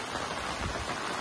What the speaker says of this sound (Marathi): पाऊस एकदम मस्तच पडताय बघा